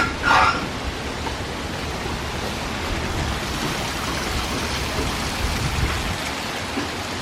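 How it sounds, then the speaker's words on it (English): Heavy rain pours steadily off a roof in a dense, even wash of water noise, loud and close, with a brief brighter splash near the start and no talk. "Look how much rain is coming off the roof."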